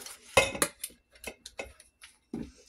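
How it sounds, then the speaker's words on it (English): A utensil stirs dehydrated ingredients in a crockpot, giving a handful of sharp clinks and scrapes against the pot in an irregular rhythm, close and fairly quiet. "Go ahead and stir that in."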